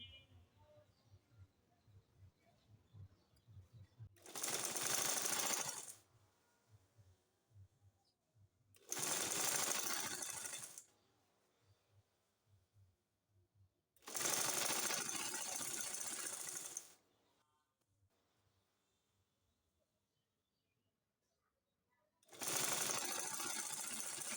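An electric sewing machine stitching the neckline of a maxi dress, running in four loud bursts of a few seconds each, separated by quiet pauses with faint handling noise.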